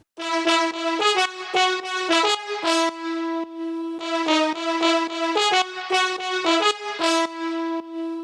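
Synthesized brass section from a remake of a song playing short staccato stabs, then shifting to longer sustained notes, a bright layered tone with no voices.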